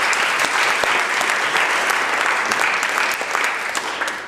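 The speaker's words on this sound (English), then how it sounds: "we're going to do those applause for each winner" Applause at the BC Legislature for a young contest winner, a full, steady clatter of many clapping hands that fades slightly toward the close.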